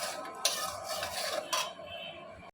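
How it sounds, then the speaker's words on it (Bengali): Spices fry over low heat with a steady soft sizzle while a utensil stirs and clinks against the pan a couple of times. "মশলাটা আস্তে আস্তে কষানো হচ্ছে"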